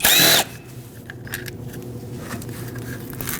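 A power tool gives one brief, loud whirring burst at the start while it works a 10mm bolt on the 3.5L V6 engine of a 2008–2012 Honda Accord. Faint metallic ticks and shop rustle follow.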